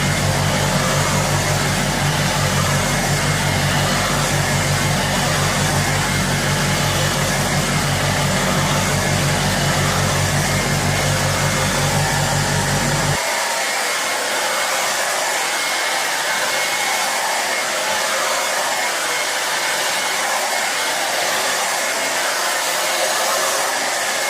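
A hair dryer blows loudly and steadily close by while drying hair, then the low motor rumble drops away partway through, leaving a softer airy hiss that continues to the end.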